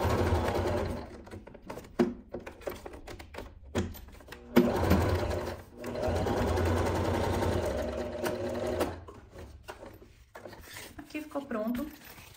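A sewing machine stitches a nylon bag in close, loud runs broken by short pauses and handling rubs, with a voice speaking quietly in places.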